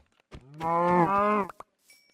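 A Minecraft cow gives a single drawn-out, tonal moo with a slight pitch step midway, lasting over a second, followed by a couple of faint clicks.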